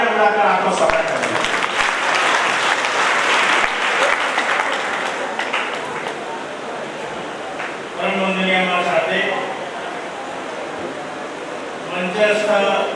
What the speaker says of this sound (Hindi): आप सब लोग तालियां बजाकर आपको स्वागत करें।